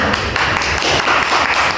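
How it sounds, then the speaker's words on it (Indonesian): A university microteaching class applauds together, a dense, steady patter of many hands clapping close by for about two seconds with no pauses. "kita kasih tepuk tangan dulu"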